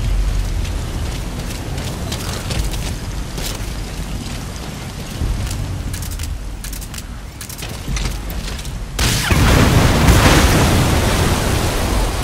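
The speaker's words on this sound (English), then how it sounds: "Explosion." A rumbling explosion in Metal Gear Solid V blasts out as a sudden loud surge of broadband noise, following a stretch of steady roaring, rain-like wash and holding heavy and sustained to the end.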